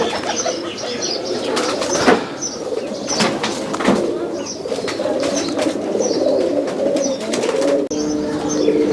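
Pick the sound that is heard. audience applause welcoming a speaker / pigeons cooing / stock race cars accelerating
pigeons cooing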